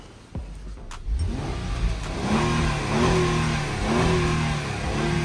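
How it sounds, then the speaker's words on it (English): A car engine revs after both catalytic converters were replaced, starting with a thump, then rising and falling through several strong, close revs, loud and alone. "I'm revving it up because when this one came here, you can't even start it."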